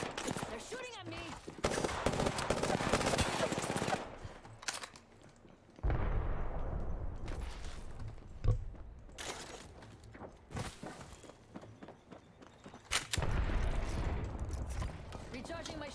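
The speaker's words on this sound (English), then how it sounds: "They're shooting at me." Gunfire in Apex Legends, with loud bursts of automatic shots and rapid volleys alternating with quieter stretches of movement and footsteps, some speech-like sounds mixed in.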